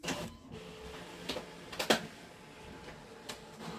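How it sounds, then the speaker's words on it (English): A home printer keeps running as it tries to print, giving off a steady mechanical whir broken by intermittent clicks and clunks, fairly close, with no talking. "and it's still trying to print."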